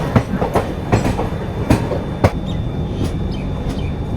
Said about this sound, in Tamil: இப்போ நம்ம பார்த்த நாகர்கோயில் கோயம்புத்தூர் எக்ஸ்பிரஸ் வந்து இதோ அந்த லைன்லேருந்து வந்திருக்கும்.